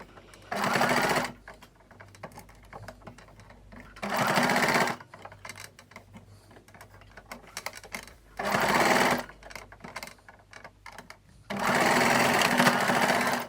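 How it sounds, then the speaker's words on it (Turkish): A sewing machine stitches satin fabric for scrunchies in four loud, steady bursts of fast whirring, separated by quieter pauses with faint handling noises. "Ve makinemde bu şekilde dümdüz dikiyorum."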